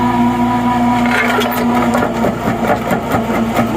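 A New Holland skid steer runs a jaw crusher at three-quarter throttle, chewing through asphalt millings with a loud, continuous engine drone and steady grinding and rattling throughout, no voices.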